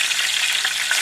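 Curry leaves crackle and sizzle in hot oil while a chicken dish is cooked, a steady bright hiss with a few sharper pops, close and loud throughout with no voices.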